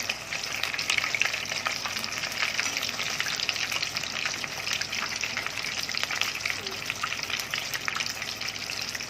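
Battered fish pieces fry in hot oil, a steady, close crackling sizzle with bright bubbling that carries on without a break throughout.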